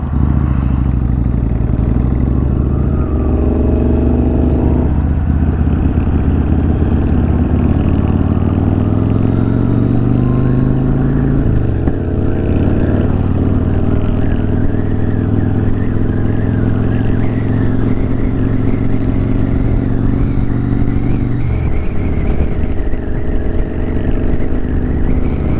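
A Honda motorcycle engine runs steadily and loudly up close, its note rising and falling through gear changes on a cruise, with wind rush underneath and no voices.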